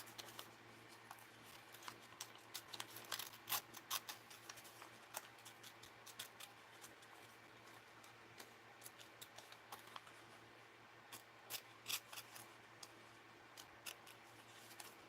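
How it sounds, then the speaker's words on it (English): Scissors snip paper in careful, fussy cutting for a mixed-media art journal page, with short irregular clusters of close, crisp snips and pauses over a faint background hum. "Let's fussy cut this."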